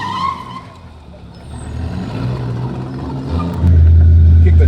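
A car doing donuts with a clutch kick: the engine rumbles low, then rises into a loud, sustained rev with a tire-skid roar near the end.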